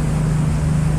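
Steady low engine drone of the passenger ferry Isle Royale Queen IV with a constant hum and broadband water rush, continuous and unchanging, no voices.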